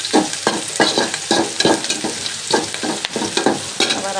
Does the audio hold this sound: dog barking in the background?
no